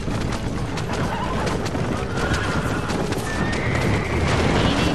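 A horse neighs and whinnies in Red Dead Redemption after being shot, the cry sitting over a steady wash of game noise with hoofbeat clip-clops running underneath for the whole stretch.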